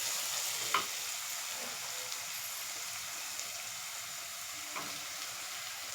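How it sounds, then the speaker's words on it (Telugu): Tomatoes and onion for egg curry fry in a pan with a soft, steady sizzle, broken by a few faint stirring clicks. "ఇప్పుడు ఇందులో మనం టమాటా కూడా వేసేసుకుందాం."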